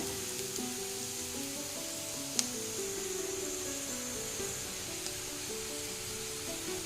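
Bitter gourd fries in a pan for gojju, giving a steady, even sizzle that holds throughout, close and moderate, with one brief sharp tick partway through and no voices.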